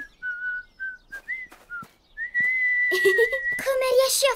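Someone whistles a series of short separate notes, then holds a long steady tone that breaks into a wavering, airy whistle with breathy noise.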